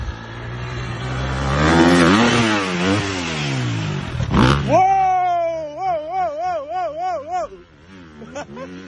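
A dirt motorcycle engine revs hard and rises in pitch during a big backflip jump, then settles into a rhythmic pulsing rev, loud and near, with excited voices shouting over it.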